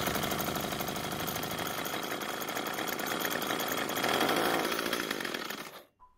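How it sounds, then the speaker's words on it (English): Troy-Bilt gas pole saw engine that catches and runs for a few seconds, a loud, buzzing two-stroke rasp that swells slightly before sputtering out abruptly into silence. "we were able to get it to run for a second, and that means the engine isn't worn out"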